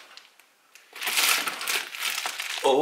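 Paper packaging is crinkled and crumpled while an aquarium supply box is unboxed, a dense rustling that starts after a quiet second and continues close and steady, with a brief voice at the end.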